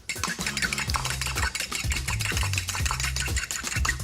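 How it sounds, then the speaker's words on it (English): An egg is whisked into sieved flour over ricotta in a bowl, giving quick, busy scraping and tapping strokes that run continuously and close up. "One delicious egg. Give that a little whisk."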